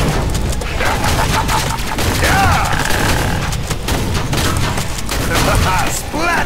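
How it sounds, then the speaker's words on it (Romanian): Explosions and rapid gunfire blast in the zombie shooter Killing Floor 2, a dense, loud, continuous barrage of booms and shots, with someone talking over the chaos. "Mamă, cum a explodat ăsta."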